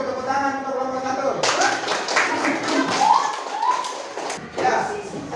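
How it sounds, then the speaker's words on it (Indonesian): A class claps for the first student group, a short burst of scattered hand clapping that rises after a teacher's voice, with talking and a few thumps around it in a room. "tepuk tangan untuk kelompok 1"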